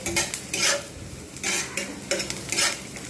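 Green chilies stirred in a sizzling pan while cooking bread pulao, a spoon scraping in repeated rhythmic strokes over a steady frying hiss.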